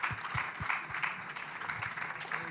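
Applause from an audience at a tech-for-all event, a continuous mid-level patter of clapping without pause across the brief stretch.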